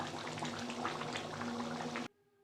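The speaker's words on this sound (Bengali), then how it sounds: "ভালোভাবে ফুটিয়ে নিয়েছি বন্ধুরা" Mutton curry boiling in a pot, a dense bubbling rumble that stops abruptly near the end, leaving near silence.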